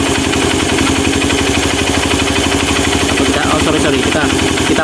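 A Honda Mega Pro motorcycle engine idles steadily during air screw adjustment, a close, loud, rapid even thumping that carries on throughout, with someone talking faintly over it.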